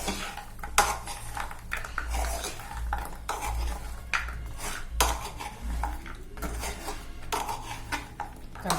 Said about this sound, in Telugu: ఇప్పుడు గవ్వల్ని వేస్తున్నాను వేయించి పెట్టుకున్న గవ్వలు గవ్వలకి పట్టేటట్టు ఇంకా కలుపుకోవాలి